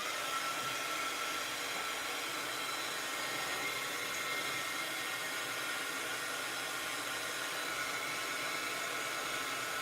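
A hair dryer blowing on glue runs as a steady, loud, broadband whoosh for the whole stretch, close by and unbroken, with no talking over it.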